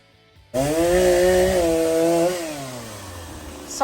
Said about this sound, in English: Sorry for the sound of the chainsaw there, but we're cutting down this tree over here.